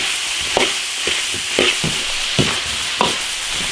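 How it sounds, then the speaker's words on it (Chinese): Seasonings such as salt, soy sauce and black pepper stir-fried in an iron wok, giving a steady soft sizzle broken by several sharp scrapes and knocks of a spatula at irregular intervals, close by and with no talking. "现在把所有的调料炒香、"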